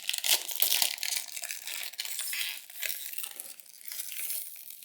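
Stretchy, bright yellow plastic snack packaging is pulled open with crisp crinkling and crackling bursts, close and fairly quiet, with no talking.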